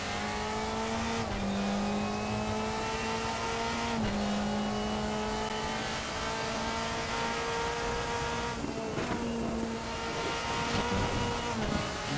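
Engine of a 2005 Mercedes DTM race car in the RaceRoom Racing video game, a loud sustained high-revving drone that climbs through gears with brief drops at shifts, accompanied by faint tire noise.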